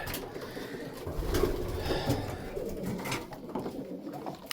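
Young white homing pigeons coo in a new loft, soft murmuring calls rising and falling close by over a steady low rustle, with no voices.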